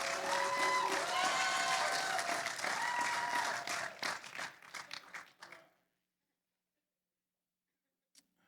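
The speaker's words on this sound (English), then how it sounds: "that's a worthwhile clap" A church congregation bursts into warm clapping, dense and lively for about five seconds with some voices and music underneath, then thins to scattered claps and cuts to silence.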